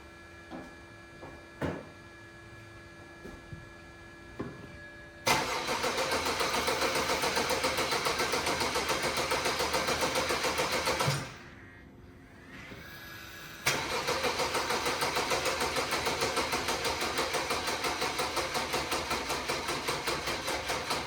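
Car engine on a DIY N5X build with a pinned crank hub cranks briefly several times, then catches and runs loudly and steadily, cuts out with a drop to quiet, and restarts into a sustained close, even-toned run.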